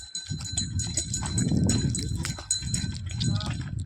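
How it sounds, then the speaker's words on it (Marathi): A newly bought bull from Ratnagiri is led along a farmyard, hooves clopping and the animal shuffling close by while several people talk over it. "बघा खास रत्नागिरीतून आलाय आपल्यासाठी बैल"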